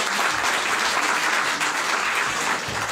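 An audience applauds at a Dutch public event, dense even clapping that fills the whole stretch at steady loudness, with a voice briefly audible near the end.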